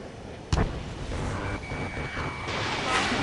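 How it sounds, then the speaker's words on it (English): Sharp missile launch burst in a PlayStation 4 combat video game, a sudden loud whoosh followed by a sustained roaring rush of engine noise and faint electronic tones. "Missile launched."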